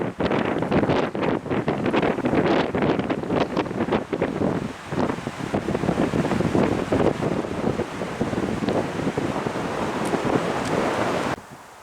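Strong, steady autumn mountain wind on Szczytnik mountain buffets the microphone with a continuous low roar and gusty swells, loud and close throughout, then cuts off abruptly near the end.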